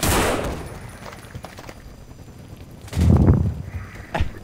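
A few loud gunshots in the zombie shooter No More Room In Hell, one blast at the start and another burst about three seconds later, close and sharp with little else around them.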